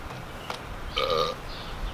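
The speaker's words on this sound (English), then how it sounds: "just keep burping" A man burps once, a short, close, guttural belch in the middle of a quiet stretch with faint background noise, while eating bananas.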